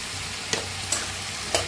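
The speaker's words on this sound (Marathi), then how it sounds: "मीठ टाकलं तर लगेच बटाटे भाजतील बी आपले" Potatoes fry in a pan with salt, a steady close sizzle broken by three soft stirring scrapes, with no one talking.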